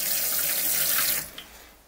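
Water drains from a caravan sink after a push-down plug is released, a steady close rushing gurgle that cuts off abruptly partway through, leaving a brief drip and fading trickle.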